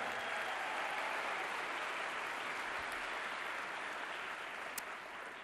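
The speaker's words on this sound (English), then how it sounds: "So please give him a big round of applause" Applause from an audience at Stanford for John Hennessy, a continuous, even roar of many hands clapping in a large room, sustained and fairly distant, easing off slightly toward the end.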